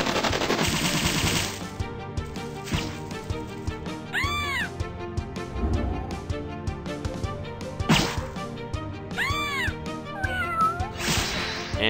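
Tank guns firing in the video game Epic Battle Fantasy 4: loud, dense gunfire bursts and sharp cracks over busy game music and cartoonish effects, with meow-like squeals and whip sounds mixed in throughout.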